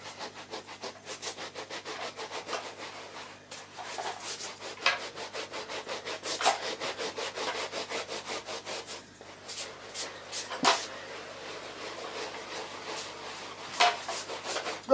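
Zorb dry carpet cleaning powder rubbed into carpet with a brush, giving a steady run of close, scratchy brushing strokes in a quick repetitive rhythm, with a few louder scrapes and no talk.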